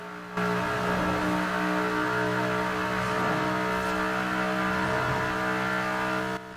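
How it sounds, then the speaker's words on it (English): An 1800 HP 2018 Ford Mustang roars through a tunnel in the racing game Forza Horizon 4, a loud sustained engine howl with strong steady harmonics that holds at high revs for several seconds. "Like usual, tunnel, engine, listen."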